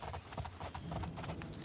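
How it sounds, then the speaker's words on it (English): Hooves of a horse clip-clop steadily in a video game, a brisk repeated rhythm of close, fairly loud footfalls over a low background hum. "It's a very good horse, I gotta say."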